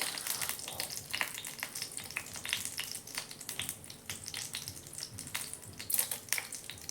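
Mustard seeds, chana dal, cumin, fennel, cinnamon, cloves and a bay leaf crackle and sizzle in hot oil, a dense steady frying hiss with scattered sharp pops throughout, close and continuous with no talking.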